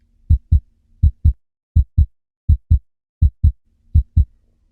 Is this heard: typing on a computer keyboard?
no